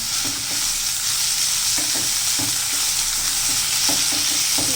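Small shrimp fry in a pan while being stirred, a steady close sizzle with soft periodic scraping strokes of the spatula, no voices.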